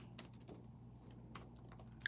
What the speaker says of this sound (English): I am typing something here.